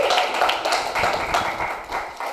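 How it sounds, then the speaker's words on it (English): Audience applause at a graduation ceremony for a traditional summer instrument workshop, a dense, steady wash of many hands clapping that fills the whole stretch without letup. "we want you to give them another round of applause again"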